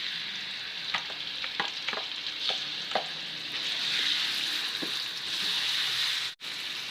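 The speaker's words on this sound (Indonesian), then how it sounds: "Selanjutnya kita tumis bumbunya." Spices being sautéed in a frying pan for an Indonesian nasi berkat dish, with a steady loud sizzle and occasional stirring clicks, no talking.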